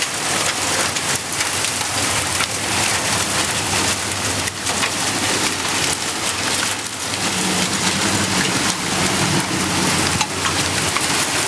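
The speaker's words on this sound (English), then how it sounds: "that is hailing all over the car." Hail and heavy rain from a storm in Smyrna, Tennessee pelt a car in a loud, dense, continuous drumming with sharper impacts scattered throughout, with no talking.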